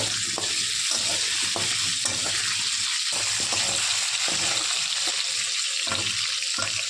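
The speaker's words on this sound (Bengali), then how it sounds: "একটু নুন, একটু হলুদ দিয়ে লাল লাল করে আলুটা ভেজে নেব।" Potatoes fry loudly in a pan with salt and turmeric, a dense continuous sizzle with stirring scrapes breaking through at intervals, close and without talk.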